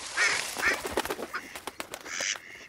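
A duck quacks several times nearby, loud nasal calls in a short irregular series.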